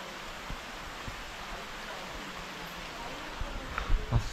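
Steady broadband hiss of heavy monsoon rain falling in the Konkan countryside, constant and fairly soft throughout, with a few light knocks and rustles near the end.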